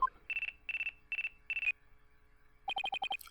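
In Ace Attorney: Dual Destinies, a phone rings with four evenly spaced electronic tones, falls briefly quiet, then gives a fast burst of six short chirping rings, clean and alone.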